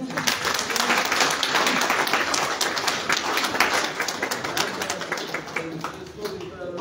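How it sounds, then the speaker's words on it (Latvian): Applause for the author at an exhibition opening, a steady dense patter of many hands clapping nearby that runs unbroken throughout, with a murmur of voices mixed in. "lūdzu vēlreiz aplausi autorei"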